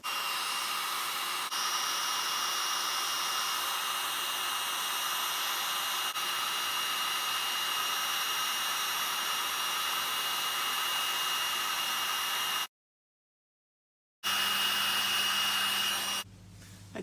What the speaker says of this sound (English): So I'm going to bring the heat tool in and we'll heat those all up.